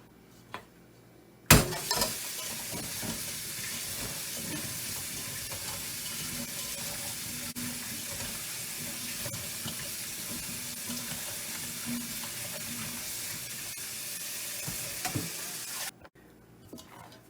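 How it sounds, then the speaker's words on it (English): Cherries being washed under a running kitchen tap, a steady broadband rush of water splashing over the fruit that starts abruptly and runs continuously at close range before cutting off near the end. "So now I'm gonna wash my cherries."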